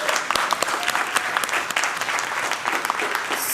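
Steady applause from a room full of people, a dense patter of clapping with a few sharper claps standing out.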